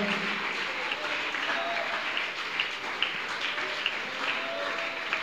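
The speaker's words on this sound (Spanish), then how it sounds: "Ríndele ese aplauso fuerte al Señor en esta mañana." A church congregation applauds during a Spanish-language service, a steady, moderately loud wash of many hands clapping with a few louder claps poking through and voices mixed in.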